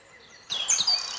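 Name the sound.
green woodpecker calling near a castle in winter forest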